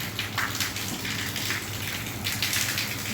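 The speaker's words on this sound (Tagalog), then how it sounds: "Lakas na ulan." Heavy morning rain pours down steadily in a continuous broadband hiss with patters and gushes, fairly loud and unbroken throughout, with no voices.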